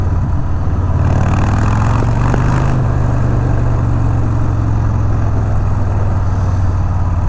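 Harley-Davidson Street Bob 107 motorcycle engine pulling hard under acceleration on a ride, a loud, deep, continuous rumble close up with steady wind rush and no talk.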